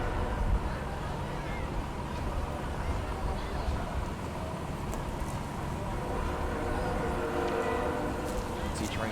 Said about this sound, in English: We hear the trains in the back road rolling through town.